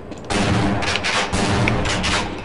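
Heavy, loud booming gunfire from the shotgun in the 1998 PC shooter Half-Life, a sustained burst of blasts with little pause between them, close and dominant.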